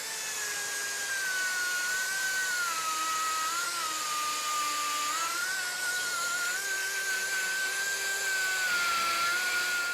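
A grinder cleans up a plasma-cut edge on the sectioned chassis of a 1968 Volkswagen Beetle, a steady high-pitched whine with a slightly wavering pitch, continuous and close for the whole stretch.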